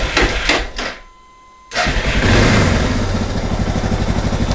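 A Suzuki DR650 motorcycle engine cranks after a brief pause, catches and settles into a loud, close, rumbling idle with a steady pulsing rhythm.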